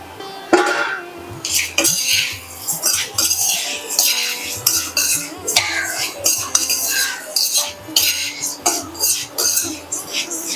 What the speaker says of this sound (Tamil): இப்போ நம்ம ஏற்கனவே வறுத்து வச்சிருந்த அவலை நான் இதுல ஆட் பண்ணிக்கிறேன்.